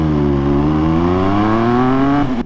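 A nearby Porsche engine revs hard, a loud steady harmonic drone rising smoothly in pitch for a couple of seconds before cutting off abruptly.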